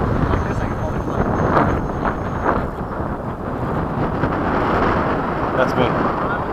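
Gusty wind roars and buffets across the microphone at a model jet flying field where a Freewing 90mm F-22 is flown, loud and continuous throughout.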